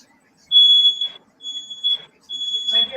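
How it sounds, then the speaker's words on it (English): A home smoke alarm gives three sharp, shrill beeps in an even rhythm, close and loud, each followed by a faint muffled voice. "That's my smoke alarm."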